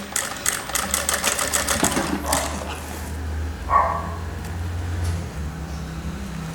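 A sewing machine stitches along a folded fabric strip in a quick, rattling run at first, then quiets to a low motor hum with a few small clicks.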